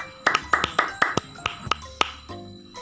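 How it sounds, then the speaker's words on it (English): A small group of students in a classroom claps for a classmate, about a dozen sharp, separate claps in an uneven rhythm that stop after a couple of seconds, leaving a quiet room. "Please give applause for her."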